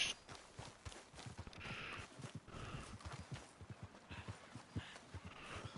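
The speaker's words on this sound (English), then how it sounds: "Where's me horse?" Horse hooves clop at a steady walking pace in a video game, the footfalls close and fairly loud, with no one talking over them.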